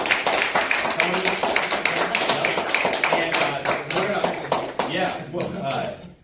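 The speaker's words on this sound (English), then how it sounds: "if everybody could give Tony Britzlaw a round of applause" Room of stakeholders at a meeting claps for Tony Britzlaw, with sharp, dense hand claps running steadily for several seconds, then thinning out near the end, mixed with some background voices.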